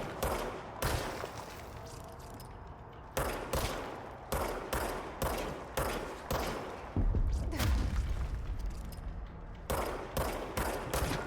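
Point-and-click video game weapon fire with regenerating ammo, sharp repeated shots in quick bursts separated by brief pauses, with a heavier thumping stretch midway, loud and close with no talk over it.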